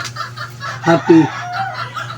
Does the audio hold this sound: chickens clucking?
yes